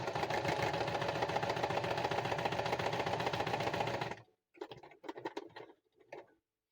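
A sewing machine stitches lace onto a junk journal cover, running in a fast, even mechanical patter for about four seconds, then stopping; a few short, quieter clicks and bursts of handling noise follow.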